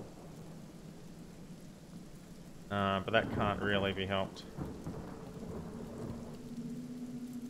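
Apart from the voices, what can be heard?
rain and thunder in video game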